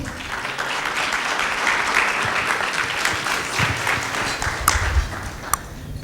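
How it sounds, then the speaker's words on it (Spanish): Loud, steady applause from a church audience welcoming guests, a sustained wash of many hands clapping with a few sharper claps standing out near the end. "Les recibimos con un fuerte aplauso."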